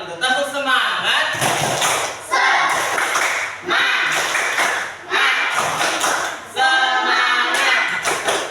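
Schoolchildren in a morning class clap a rhythmic spirit clap in bursts of sharp, loud beats, with short pauses between each pattern and lively young voices chanting along.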